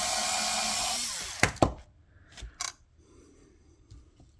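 A Forster 3-in-1 case mouth cutter trims and chamfers a rifle cartridge case with a close, steady whirring grind for over a second, then stops with a few sharp clicks and taps.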